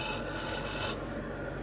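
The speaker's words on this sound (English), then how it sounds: "It's a nice shear scrape, and at the end of the cut I close the flute." A woodturning gouge shear-scraping a spinning wood piece gives a steady close raspy rubbing that runs continuously for under two seconds, brightening briefly before easing off near the end of the cut.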